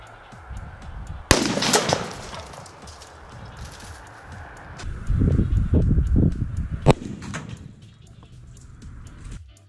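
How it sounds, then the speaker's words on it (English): Blasting cap detonating inside a plastic head: one sudden sharp crack, then several seconds of rumbling debris and clatter outdoors. "We all knew the head was going to get totally wrecked by the blasting cap."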